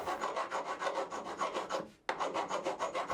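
Steady back-and-forth rasping of a hand file smoothing the sharp cut ends of metal bolts, trimmed with an angle grinder on a DIY pent bike shed, in even rhythmic strokes, close and alone with a short pause near the end.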